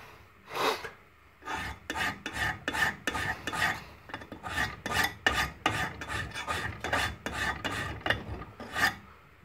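A steel file rasps across a factory double-bevel broadhead, grinding it down to a single bevel. Roughly sixteen firm, close strokes follow one another in a steady back-and-forth rhythm, alone, with no voices.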